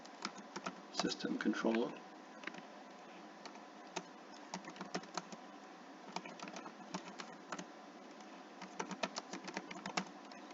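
Computer keyboard typing in irregular bursts of clicks, close and fairly quiet, while a Tesla data logging setup with Grafana is configured; someone speaks briefly between keystrokes.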